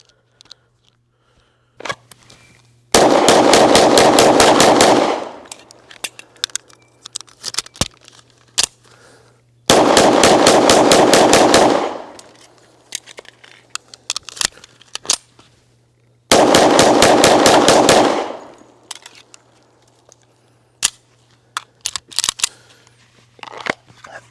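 A Springfield Armory 1911 Elite Operator 10mm pistol fired as fast as possible, three long, very loud bursts of rapid shots a few seconds apart, with faint clicks and handling noises in the gaps.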